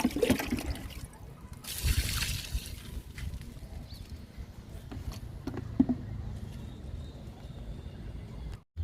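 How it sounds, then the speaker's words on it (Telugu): Aloe vera liquid poured onto a potted guava plant gives a gentle trickle and splash, strongest early on, then a quieter steady dribble, heard close with no talking. "జామ మొక్కకు కూడా అలోవెరా లిక్విడ్ ఇచ్చేద్దాము."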